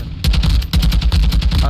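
Gunfire in the video game Call of Duty DMZ, loud rapid bursts of shots in two close spells after a brief lull, with a voice speaking over them.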